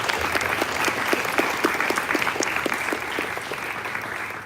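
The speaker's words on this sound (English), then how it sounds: "Can we have a huge round of applause for them?" An audience at a sixth form leadership summit gives sustained applause for student leaders, a dense even clapping that fills the room and tapers slightly at the end.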